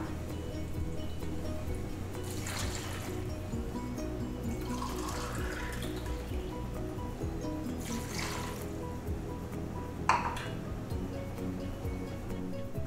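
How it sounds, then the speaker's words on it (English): Water is poured from a container into a pan of mixed vegetables for a Konkan-style khatkhate vegetarian medley, in a few short splashing bursts over a low steady background hum. "So I'm going to add about 2 cups of water to this now."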